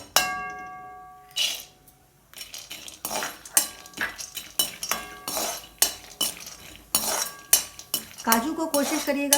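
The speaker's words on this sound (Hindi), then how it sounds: "अब हमें काजू और दूसरे मेवों को भी भूनना है, उसके लिए भी हम थोड़ा सा इसमें घी डाल लेते हैं।" Metal spoon scraping and clinking against a pan while cashews and other dry fruits roast in ghee, a run of irregular sharp clatters and stirring scrapes, fairly close, with no talking.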